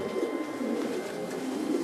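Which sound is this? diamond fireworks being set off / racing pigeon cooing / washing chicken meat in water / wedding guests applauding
racing pigeon cooing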